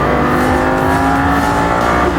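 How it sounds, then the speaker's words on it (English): A Lamborghini Gallardo accelerating hard out of a corner on a track, its engine roaring loudly and steadily up close for about two seconds, with no talking. "Lamborghini Gallardo has a lot of low-end torque, so it forces you to be smooth with the throttle as you're exiting your corner"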